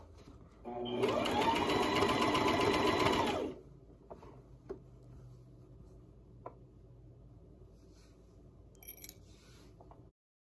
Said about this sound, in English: I'm using my fingers like this to keep the seam that I'm sewing on, to keep it even and straight